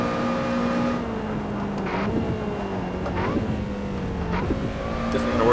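A light, nimble race car driven in Assetto Corsa, its engine holding a steady tone with rising and falling pitch through upshifts and downshifts, close and continuous with no talk.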